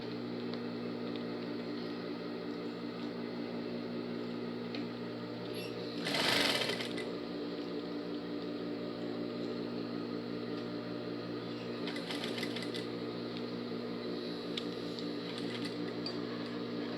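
Sewing machine stitching a seam in striped fabric on overalls, a steady close mechanical whir running throughout, with one brief clatter partway and faint handling noises.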